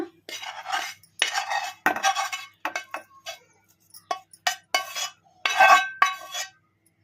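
Fried tomatoes being spooned into a mixer jar for methi-tomato chutney, a steel spoon scraping and clinking against the jar and vessel in quick, irregular bursts separated by short pauses.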